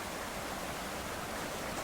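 Waterfall in the survival video game Subsistence: a steady, even rush of falling water, loud and unbroken throughout.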